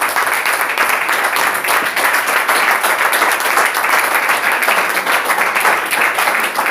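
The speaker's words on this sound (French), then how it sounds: "Applaudissons pour le Seigneur" A church congregation keeps up steady, loud applause throughout, a continuous wash of clapping with no voice standing out.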